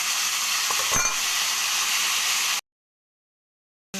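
Amla, Indian gooseberries, drop into hot oil with dried red chilies and sizzle loudly in a steady, dense hiss for a few seconds, then cut off abruptly into silence before the sizzling briefly returns.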